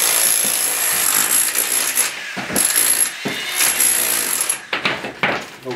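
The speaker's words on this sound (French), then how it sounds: "on a cet embout sur le perfo qui est vraiment pratique et qui va permettre d'enlever beaucoup plus vite" Rotary hammer drill fitted with a flat chisel bit chipping render off masonry, a loud, continuous rattling hammer with brief pauses and restarts, close up.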